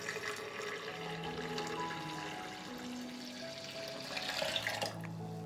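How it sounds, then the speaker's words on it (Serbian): Water poured steadily into a blender jar, about a litre, a continuous close splashing flow with a slight rise near the end, no voices. "Sipat ću u blender litar vode."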